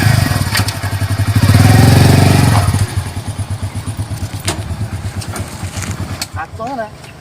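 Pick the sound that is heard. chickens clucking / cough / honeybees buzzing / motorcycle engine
motorcycle engine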